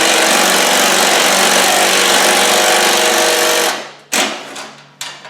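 Impact driver fitted with a 10mm socket runs a bolt home on a Land Rover 300Tdi, a loud continuous buzzing whir lasting several seconds, then cutting off into a few short sharp bursts.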